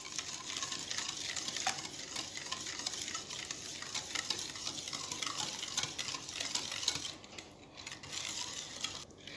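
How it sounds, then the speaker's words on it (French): A whisk beats eggs into a liquid cookie batter in a bowl, making a continuous soft scraping and swishing at close range that keeps a steady rhythm with only brief dips. "je vais mettre avec le fouet et je vais rajouter les œufs. Et je commence à remélanger."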